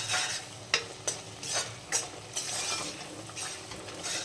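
Rhythmic scraping strokes of a spoon stirring thick garam masala gravy for chickpea curry in a pan, roughly every half second, with a soft sizzle underneath.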